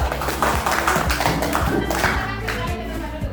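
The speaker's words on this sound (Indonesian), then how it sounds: "Tepuk tangan untuk kelompok satu" Children in a classroom clap together for a group of classmates, a steady patter of many hands that runs throughout at moderate loudness.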